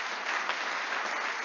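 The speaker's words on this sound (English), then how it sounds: "I thought you were going to clap your hands" An audience at a school anniversary service claps hands in a dense, steady burst of applause, loud and sustained through the short moment.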